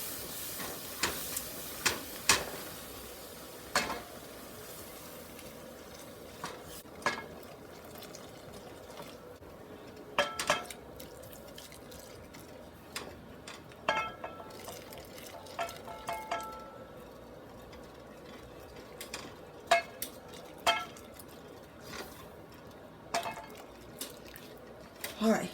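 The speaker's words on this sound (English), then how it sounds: "And whisk occasionally so that way it won't be lumpy." A whisk stirs bechamel sauce for baked macaroni and cheese in a hot pot. Scattered clicks and taps of metal against the pan sound over a soft liquid hiss, and some faint talk is heard.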